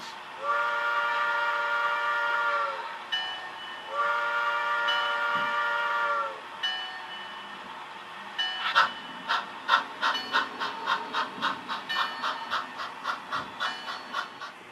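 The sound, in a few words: train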